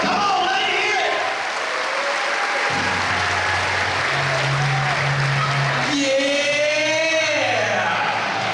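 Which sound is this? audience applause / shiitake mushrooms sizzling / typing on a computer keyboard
audience applause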